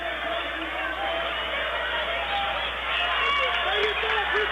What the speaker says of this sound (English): Boy, it is loud in Scotty Gym here tonight. We have a packed house.